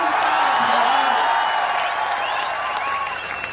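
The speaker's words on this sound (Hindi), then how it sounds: "ये बिना सुने ही ताली बजाना" A crowd at a Haryana assembly election rally claps continuously, the dense applause staying loud throughout before easing slightly at the end, with scattered cheers and voices mixed in.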